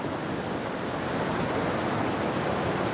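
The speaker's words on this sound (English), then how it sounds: "Soothing sounds of the ocean" Ocean waves wash onto the beach at Myrtle Beach in a continuous, even surf roar with no voices.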